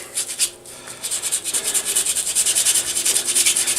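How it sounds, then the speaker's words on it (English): Old sandpaper rubbing copper on an Evinrude outboard's lower end, a steady, close scratchy back-and-forth that picks up after a short pause and keeps a quick rhythm of strokes. "Got a piece of old sandpaper here. Give that a quick"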